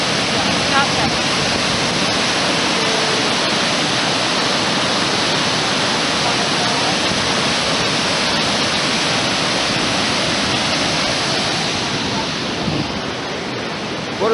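Cascade waterfall in the Tetons roars as a loud, steady, broadband rush of falling water, constant from start to finish with no break in the flow.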